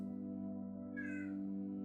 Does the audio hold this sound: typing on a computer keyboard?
no